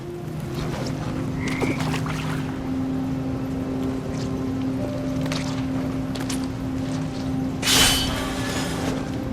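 Toads croak in the dark labyrinth scene of the video game What Remains of Edith Finch, low repeated croaks over a steady droning rumble, with a louder rushing burst near the end; no one speaks.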